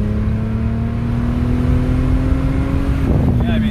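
A VW Golf GTI with nearly 200,000 miles idles and revs smoothly, a close, steady engine drone with a rising pitch near the end and no ticking.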